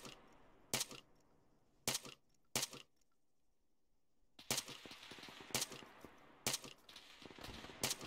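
Arma 3 gunfight in a game, sharp gunshots cracking out singly at first, then a denser run of rapid shots after a short lull, over a low background rumble.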